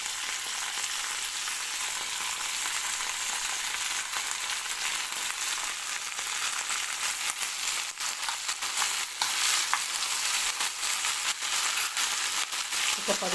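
Tomatoes and tamarind frying in a pan for a cucumber chutney, a soft, steady hiss of sizzling oil throughout, fairly quiet and even, with no voices.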